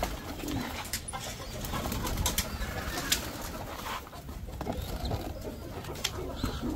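Pigeons coo steadily while being moved into a cage, with soft repeated calls over a constant background hiss and no voices.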